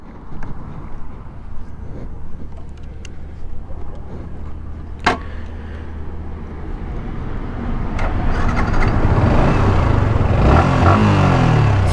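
A modified Yamaha R15 V3 motorcycle starting off on a ride, wind and road rumble at first, then engine noise building louder and steadier toward the end, with a few sharp knocks along the way.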